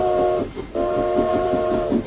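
Train locomotive sound effect: a loud, sustained multi-tone horn or whistle over rumbling rail noise, with a brief break partway through before the blast resumes and continues to the end.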